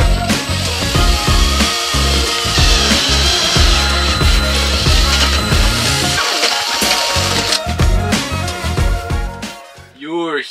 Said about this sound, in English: There's no going back now once I drill this hole